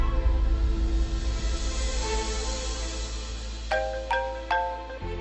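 Phone ringtone trilling out three short electronic chimes near the end, moderately loud over a low background hum, no voices.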